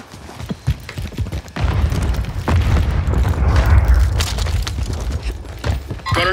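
A grenade explosion in Warzone 3, a loud booming blast that swells into a sustained rumble for several seconds, with scattered clicks and clatter of gameplay around it.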